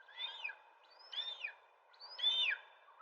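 An owl-like bird gives three separate sweeping, whistled calls about a second apart, each falling in pitch, fairly quiet and clear against a silent background.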